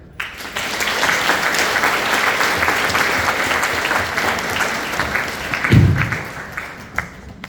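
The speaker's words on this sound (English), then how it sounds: "Another round of applause, please" An audience at a council forum for older persons applauds after a keynote speech, giving sustained, dense clapping that swells and holds for several seconds, then tapers off, with a brief low thump near the end.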